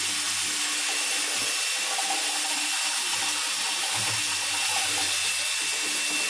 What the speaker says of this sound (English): the old drill with the paint mixer works wonders